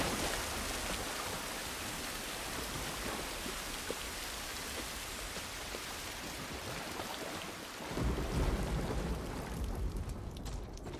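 Steady hiss of heavy rain in The Last of Us Part I, a dense even wash that drops to a duller, muffled rumble near the end as if heard from under cover; no distinct thunderclap stands out.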